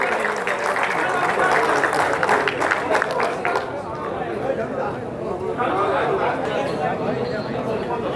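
Loud applause from a crowd at a pigeon racing prize distribution ceremony in Bengal: dense clapping for the first few seconds, then easing into steady crowd babble.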